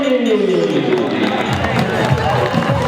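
Dense applause and crowd noise at the finish line of a popular running race in Cambados fill the space, with a broad wash of clapping and cheering that holds steady from start to finish.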